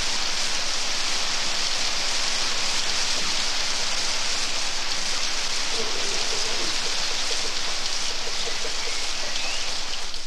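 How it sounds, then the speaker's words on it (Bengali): Heavy cartoon rain pours steadily as a dense, continuous hiss of water drumming on surfaces, loud and unbroken throughout. "তখন মুষলধারে বৃষ্টি শুরু হলো"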